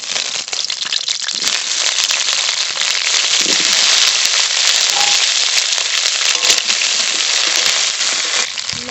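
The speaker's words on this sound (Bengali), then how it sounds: "কড়াইতে সর্ষের তেল দেবো আলু ভেজে নেব" Freshly cut new potatoes drop into hot mustard oil in a wok and fry with a loud, dense crackling sizzle that pops continuously up close.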